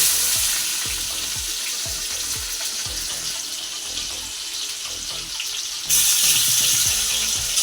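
Chopped onions fry in hot oil with whole garam masala and cumin, a loud, busy sizzle close up that suddenly grows brighter and stronger near the end as the onions hit the pan.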